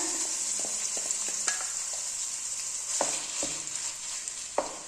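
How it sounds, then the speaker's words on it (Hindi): Minced meat browning in three spoons of oil over medium heat: a bright, steady sizzle broken by sharp clicks and scrapes of a spatula against the pan, close and without speech. "पहले इस कीमा को हमने थोड़ा सा भूनना है।"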